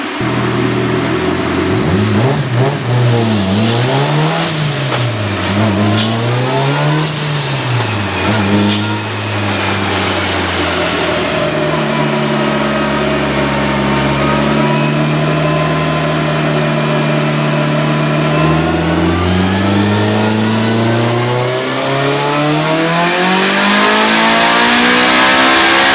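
Mitsubishi Lancer Evolution 9 with a 2.3 stroker engine, stage 3 head and PPG gears revving loudly up close, with repeated sharp blips, then longer climbing pulls and sustained high revs.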